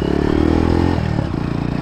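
A Kawasaki W175 motorcycle, fitted with a changed main jet, pilot jet and gear set, revs up close and loud with rising engine pitch and a rough, rattling tone, then settles briefly before climbing again, with no voices.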